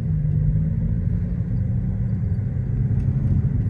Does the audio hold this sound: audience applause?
no